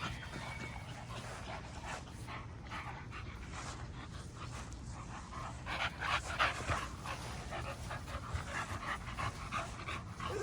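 Young puppies panting and playing together, with steady breathing and scuffling through the whole stretch, growing busier and louder midway, close by and with no voices.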